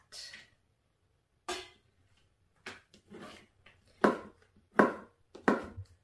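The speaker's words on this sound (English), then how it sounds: "I'm only going to chop it into semi-small pieces" A knife chops through beef fat trimmed of meat on a board for tallow, giving several sharp, close thuds, one alone and then a quick cluster of uneven strokes with quiet gaps between them.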